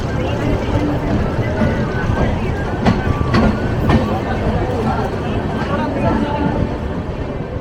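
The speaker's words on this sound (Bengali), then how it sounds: "ট্রেন থেমে যাচ্ছে।" East Coast Express passenger train slowing toward a halt near Jaleswar, a continuous rolling rumble with rhythmic wheel clatter and a few sharp clanks, heard from inside the carriage while people talk.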